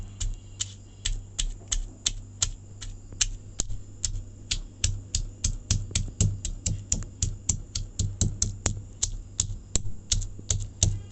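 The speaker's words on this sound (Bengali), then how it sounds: "এখন আমি পেঁয়াজটা ছেঁচে নিচ্ছি দেখুন" Onion being crushed by pounding for a mustard bharta, a steady run of sharp, close knocks repeating at an even, quick rhythm over a low background hum, with no talk.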